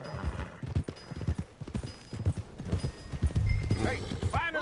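A horse in Red Dead Redemption 2 clops along with steady hoofbeats, then lets out a whinny near the end, while someone talks over it.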